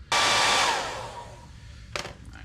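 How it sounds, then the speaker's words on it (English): A cheap hair dryer switches on loud and close, blowing a steady broadband whoosh to heat the painted fender of an FG1 car, then fades, followed by a brief clatter near the end. "Ideally, you'd like to use an actual heat gun, but I've got this cheap hair dryer"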